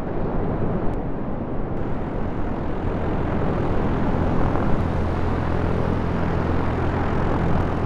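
A rocket engine fires during a launch into space, producing a continuous, loud, broad roar that holds steady from start to end with no voices.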